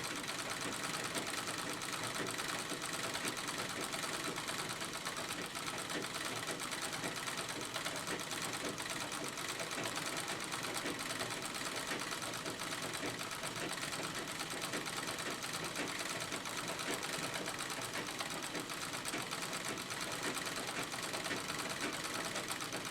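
A sewing machine hums and clatters steadily through white denim during free-motion quilting, with a continuous, even mechanical whir that stays close and unbroken with no talk throughout.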